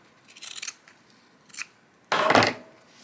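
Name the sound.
scissors cutting quilt fabric near a seam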